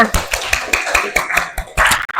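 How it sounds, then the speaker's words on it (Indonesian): Students in an Indonesian classroom clap in a quick, fairly regular rhythm of sharp, close hand claps. The clapping is loud and clear, with the last few claps bunching together at the end. "Tepuk tangan untuk kita semua."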